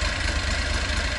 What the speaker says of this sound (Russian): мотор прогревается, обороты стабилизируются, то есть вот это нормальные обороты двигателя